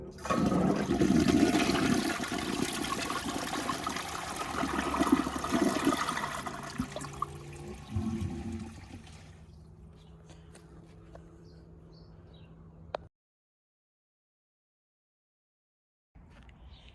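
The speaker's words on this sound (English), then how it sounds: "this toilet has a pretty powerful flush, so here it goes" A 2006 Jacuzzi Perfecta toilet flushing powerfully: a loud rushing whoosh of water that drains down over several seconds, then a quieter trickle and tank refill hiss before cutting to silence.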